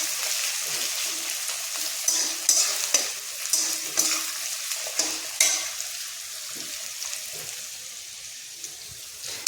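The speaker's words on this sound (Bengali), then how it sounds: "এইখানে লাউ তরকারি পেঁয়াজটা ভাজা হচ্ছে।" Onions frying in a pan for bottle gourd curry, a steady sizzle broken by repeated scraping stirs of a spatula, close and alone with no voices.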